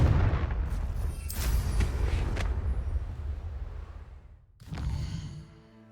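Confringo fire-blast spell in Hogwarts Legacy, with loud booming blasts and crackling bursts that tail off, then a fresh explosive burst near the end.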